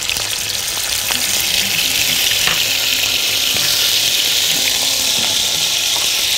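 Garlic, added along with onion, sizzles and fries steadily in a pan for a potato and vegetable dish, a dense continuous crackle with no talk.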